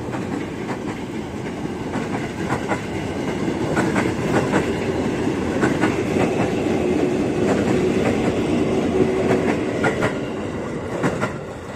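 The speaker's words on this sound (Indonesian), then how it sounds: "Kalau KRL lagi lewat" Indonesian KRL commuter train bound for Bogor, twelve cars long, passing a level crossing at night: a steady, loud rumble with rhythmic clickety-clack of wheels over rail joints, swelling and fading as the cars roll by.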